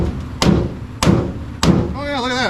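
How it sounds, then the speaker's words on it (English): A big hammer strikes a vehicle body panel during fabrication and welding work, three loud, evenly spaced metallic blows close by, with a voice starting after the last one. "that's what we needed, a big hammer"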